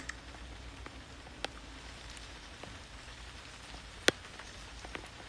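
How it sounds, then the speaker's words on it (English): Rain during a thunderstorm in the Toca Boca video game: a faint, even patter with a few sharper drops standing out now and then, no voices. "It's still raining."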